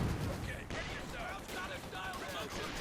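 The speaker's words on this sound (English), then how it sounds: "Light infantry guns bombarding." Light infantry guns and mortars firing in the Company of Heroes 2 battle game, a dense rolling barrage of booms and gunfire layered over one another, with a voice talking faintly underneath.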